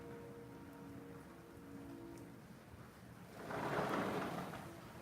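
Steady rain falls outdoors at night, a soft hiss that swells louder near the end, with a faint low hum underneath.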